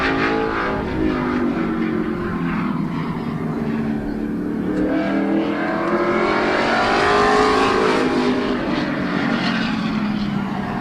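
Race car number 65 at Midvale Speedway qualifying, its engine roaring loud and near as it sweeps past, pitch rising and falling through the lap with a steady drone.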